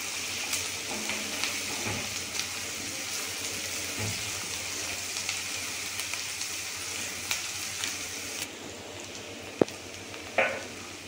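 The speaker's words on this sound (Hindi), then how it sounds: "प्याज डालेंगे, और प्याज को हम भून लेंगे।" Onions frying for misal, a steady moderate sizzle with occasional light clicks of a spoon against the pan and a couple of sharper knocks near the end.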